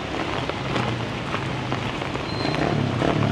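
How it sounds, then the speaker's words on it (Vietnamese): Heavy rain pours steadily, a dense continuous hiss of drops pattering on surfaces with no voices. "tiếp tục gặp những trận mưa lớn"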